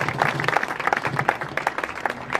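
Audience applause at a 5 August memorial tribute event, a short burst of many hands clapping in a dense, even patter throughout.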